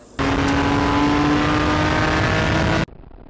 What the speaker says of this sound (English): This is one of the most significant Ferrari race cars of all time.